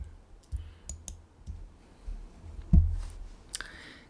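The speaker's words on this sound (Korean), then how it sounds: "키보드에서 컨트롤 키 누른 상태에서 창 클릭해서 창 3개를 선택을 하고" Computer mouse clicks while selecting windows in software with the Ctrl key held down, several sharp, quiet, irregular clicks spread across the stretch, with no talk.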